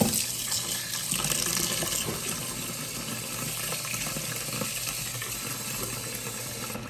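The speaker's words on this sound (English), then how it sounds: "I like to add some water." Water runs steadily from a tap into a bowl while melon seeds are being separated, a continuous close rushing hiss with no talk.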